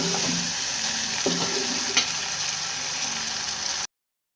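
Masala spice paste fries in a pan with a steady, close sizzle and a few light stirring scrapes, then cuts off abruptly.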